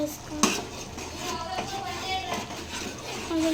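A lid goes onto a cooking pot while curry is made at home, with metal clanks and clatter of pots and utensils in a busy kitchen and a voice speaking in the background.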